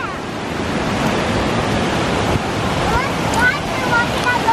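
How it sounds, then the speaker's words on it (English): Rushing water from a waterfall at Table Rock, a steady broad roar that fills the clip and holds fairly constant, with a few faint high voice-like chirps near the end. "The whole waterfall."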